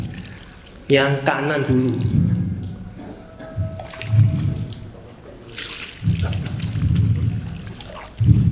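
Water is poured over a deceased body during a practice session of Islamic funeral washing, splashing in bursts between and under a man's instructional speech.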